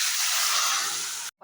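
Hot oil tempering of mustard seeds, cumin and asafoetida poured into chow chow kootu, giving one loud, close burst of sizzling hiss that fades slightly before cutting off.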